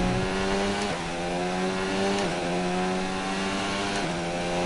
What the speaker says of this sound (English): I've just heard the over-revving.